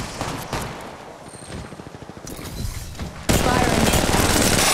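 Gunfire in the mobile shooter game Apex Legends Mobile, rapid automatic bursts of shots rattling close and loud, briefly easing off and then erupting into a dense, sustained volley.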